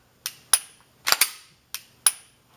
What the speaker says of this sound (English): The reset is a very audible click.